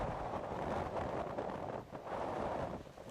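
Steady wind on an open disc golf course in Wyoming rushes across the microphone in a continuous low, buffeting roar, with a brief dip before it swells again. No voices are heard.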